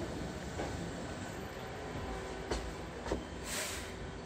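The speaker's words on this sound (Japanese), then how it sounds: "まもなく2号線に京都河原町方面へ向かう電車が到着します。" A Hankyu Railway train rumbles into Awaji Station in Japan with a steady low roar, brief metallic clanks and a hiss of brakes toward the end.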